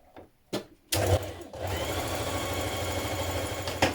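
A sewing machine runs ease stitching around the top curve of a sleeve for a Vogue 9311 spring dress, starting with a few sharp clicks and a short burst, then settling into a long, steady close hum.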